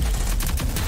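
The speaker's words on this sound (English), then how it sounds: "Oh, I'm getting shot." Gunfire in the Rogue Company shooter game, a quick burst of several close shots crackling in rapid succession over a brief moment.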